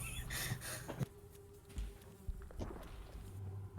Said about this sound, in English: You hear this sort of strange buzzing